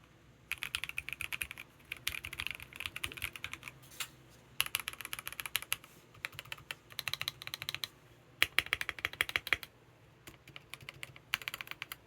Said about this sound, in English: this is the CIY GAS67 with JWick Ultimate Blacks.